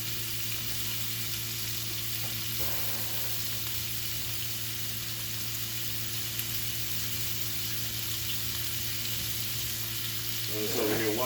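Bacon sizzles in a pan during a cast iron versus nonstick comparison, a steady, even frying hiss running throughout over a constant low hum, with a brief scrape near the end.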